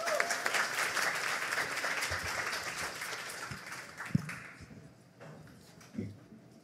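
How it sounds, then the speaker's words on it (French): A room full of people applauds after a conference presentation, the clapping loud at first and then gradually thinning out and fading, with a few last claps near the end. "on applaudit très fort"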